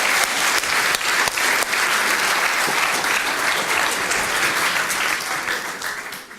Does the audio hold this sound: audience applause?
yes